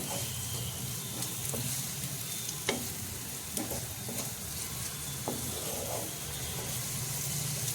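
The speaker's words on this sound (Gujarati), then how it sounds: "બધું બરોબર મિક્સ કરીને ચલાવતા રહેવાનું" Vegetable Manchurian mixture with capsicum being stirred in a pan, a soft steady sizzle with occasional spatula taps and scrapes against the pan, close but quiet, with no voices.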